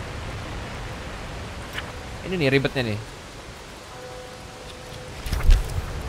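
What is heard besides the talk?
rain falling in a video game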